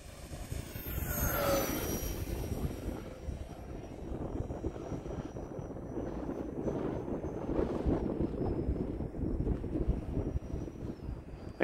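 An E-flite A-10 Thunderbolt II radio-controlled jet with twin 64mm electric ducted fans and a 6S battery flies over a grass field in wind, giving a steady, distant whooshing whine that swells and fades as it passes, with wind rumble throughout.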